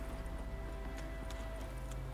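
Hooves of the invisible horse Roach in The Witcher 3: Wild Hunt – Hearts of Stone clop faintly and steadily beneath a low game ambience, a soft, regular clip-clop with no voices.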